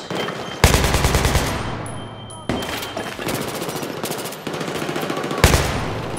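Machine gun fire in Battlefield 3, a military shooter game, comes in loud, rapid bursts separated by brief gaps, close and dominant over the rest of the game sound.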